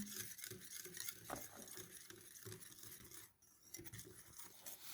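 A whisk beats room-temperature butter with sifted flour in a bowl, with quick, quiet scraping and clinking strokes repeating in a brisk rhythm and no talk.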